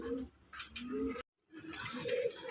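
Sowa chandan fancy pigeons in a breeder's pen give soft, low cooing calls in two close bursts broken by a short silence, heard near and fairly quiet.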